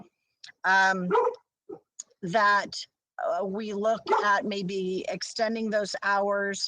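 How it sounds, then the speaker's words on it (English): A household dog barks in short bursts behind a person talking steadily during an online school board meeting, the barks mixed into the speech. "I'm sorry for my dog barking"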